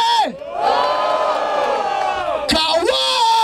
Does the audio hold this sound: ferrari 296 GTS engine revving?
no